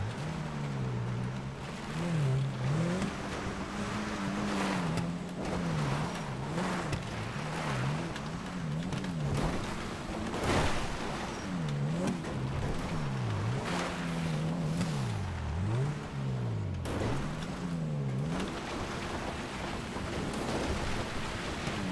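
The Castigator off-road vehicle climbing Mt. Chiliad in GTA5, its engine droning and wavering in pitch as it revs over rough ground, with bumps and thuds breaking through a constant loud rumble and no talk.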